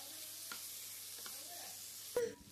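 Capsicum and onion sauté lightly in a pan, a faint steady sizzle with a couple of soft stirring scrapes and a brief louder clatter near the end.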